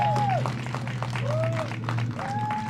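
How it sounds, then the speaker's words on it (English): A rally crowd in Rome, Georgia breaks into steady applause and cheering, a dense wash of clapping that goes on throughout, with a voice calling out over it. "Can I hear a big cheer for all of these guys"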